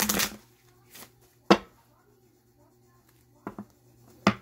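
A tarot deck is shuffled by hand in a quiet room: a burst of riffling at the start, then scattered sharp card taps and flicks with long pauses between.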